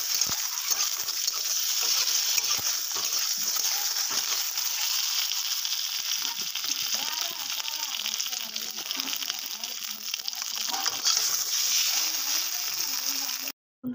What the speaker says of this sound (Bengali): এখন আমি এটাকে ভেজে নেব।